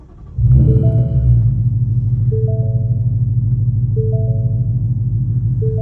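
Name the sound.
Ford Mustang GT 5.0 engine starting and rumbling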